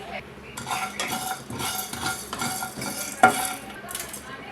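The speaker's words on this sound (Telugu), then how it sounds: "కొన్ని ఎండు కొబ్బరి ముక్కలు వేసుకోవాలి వీటిని దోరగా ఫ్రై చేసుకోవాలి" Dry coconut pieces, ginger and four garlic cloves fry in a pan for a capsicum gravy curry, with bursts of stirring and metal utensil scrapes over a soft sizzle and one sharp clink near the end.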